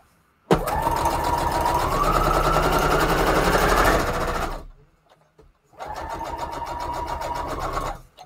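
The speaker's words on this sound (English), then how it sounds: "I'm just trying to stitch on this piece of cardstock just to make sure that my sewing machine works" A sewing machine stitching through a piece of cardstock, running loud and steady for about three and a half seconds, pausing briefly, then running again for another two seconds.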